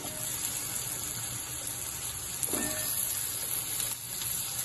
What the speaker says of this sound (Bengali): এইবার আমি দিয়ে দেব যে আলুগুলো কেটে রেখেছি আগে থেকে